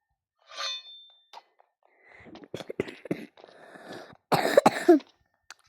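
A couple of sharp coughs near the start, followed by clattering and rustling handling sounds, with a louder burst of knocking toward the end.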